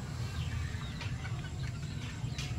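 A chicken clucks faintly in a mountain farmyard among hatch gamefowl, with a few soft, scattered calls over a steady low background rumble.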